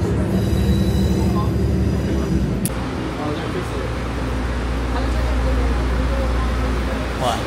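Steady rumble and rattle inside a moving train in Taiwan, with occasional wheel squeals and clanks; a voice talks faintly underneath.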